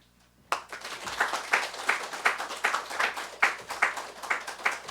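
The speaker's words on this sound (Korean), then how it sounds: "선교사님 나올 때 우리 큰 환영의 박수로 그렇게 맞아주시면 감사하겠습니다" A church congregation claps to welcome a missionary: after a brief silence, a fairly sparse round of claps starts in uneven pulses and carries on steadily, close and moderately loud.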